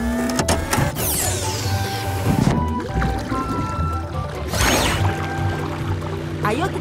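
Cartoon underwater vehicle, the Platypus 1, powering on: rising electronic whirs and tonal beeps, a whooshing sweep, then a steady mechanical hum, loud and close.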